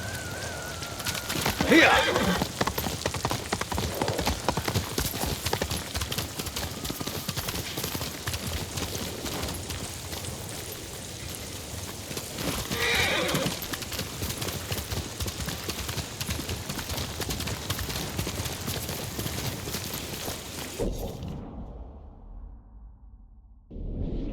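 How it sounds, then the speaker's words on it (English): Rapid rhythmic hoofbeats of a galloping horse in the video game Ghost of Tsushima, with occasional whinnies, continuous and fairly loud, ending in a brief quiet stretch. "You're a good horse, Kage."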